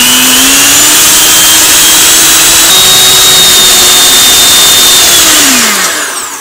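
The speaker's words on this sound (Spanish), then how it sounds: "Ahora vamos a comenzar a batir." An electric mixer whips a cinnamon syrup topping, a loud, close, steady motor whine running for several seconds before the pitch drops and it winds down at the end.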